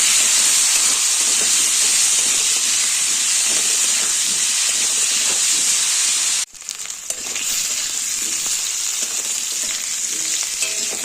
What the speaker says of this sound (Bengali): সামান্য লবণ, সামান্য হলুদ দিয়ে আলুটাকে ভেজে তুলে নেব।